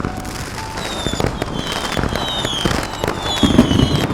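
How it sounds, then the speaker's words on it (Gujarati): Repeated Diwali firecracker bangs and crackles, with whistling rockets rising in pitch, going off continuously at a distance amid festive background noise. "તેમાં કેટલા બધા ફટાકડા હોય જો સાંભળો અવાજ આવે છે ને"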